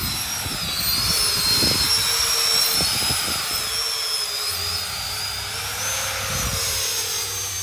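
A 70mm EDF drone with 3D-printed wings screams overhead, a loud, steady high-pitched ducted-fan whine that rises and falls slightly as it passes, with some low wind buffeting beneath.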